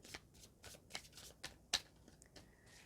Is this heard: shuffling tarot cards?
yes